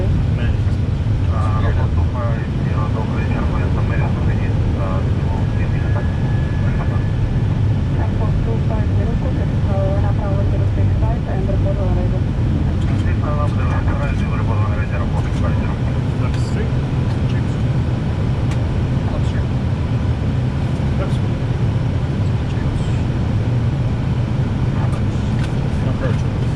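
An airliner cockpit on an ILS approach to runway 06C at a Moscow airport fills with a constant loud roar of airflow and engines, with faint crew voices and scattered clicks beneath it.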